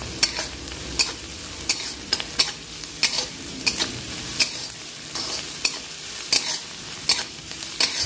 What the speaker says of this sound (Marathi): कांदा व्यवस्थित असं परतून घ्यायचा आहे आपल्याला